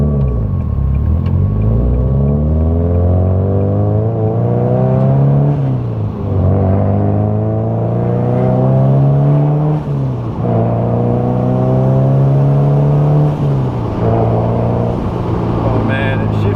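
Up close inside a boosted car with a new build, the engine note climbs steadily through each gear, then dips at every shift in a repeating pattern of rising pulls over about sixteen seconds.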